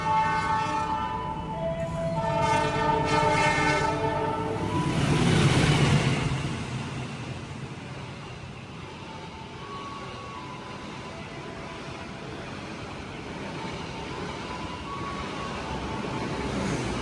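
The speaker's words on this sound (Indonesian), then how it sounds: "Barusan kereta api Manahan udah lewat di stasiun Haurgelis." Manahan express passenger train racing through Haurgelis station in Indonesia, its horn blaring in steady tones before a loud rushing roar of wheels and carriages swells past close by, then settles into a continuous rumble.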